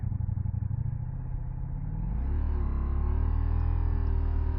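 A 2024 Ducati Diavel V4 motorcycle engine while riding, first a lumpy low-rev pulsing, then a smoother rising drone as revs climb, loud and close with steady wind noise.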